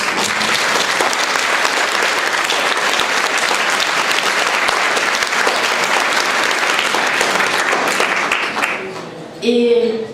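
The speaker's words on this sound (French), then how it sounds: "j'aimerais bien qu'on les applaudisse" Audience applause fills a French bookshop event for a novel's author, a dense, steady wash of many hands clapping at close range that fades near the end as a voice begins.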